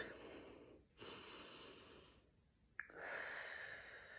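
Slow breaths drawn in and blown out through hands cupped over nose and mouth, soft and close, in two or three long airy passes with brief pauses between.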